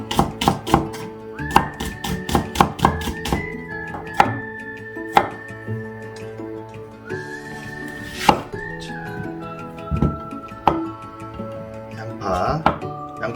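Onion being sliced with a knife on a cutting board, a run of crisp close taps and thunks in uneven bursts, with a voice talking in between.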